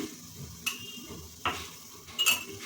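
Spice masala fries in a pan as coriander stems and salt go in, with a low simmering sizzle broken by three sharp clinks of a utensil against the pot.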